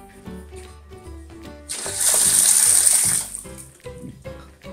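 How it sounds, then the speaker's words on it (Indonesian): Water drains out of a Channa auranti fish tank in a burst of rushing, splashing flow lasting over a second, loud and close, set among softer trickles and knocks. "Nah dan ini udah airnya sudah mulai dikuras ya. Jadi airnya sudah mulai keluar"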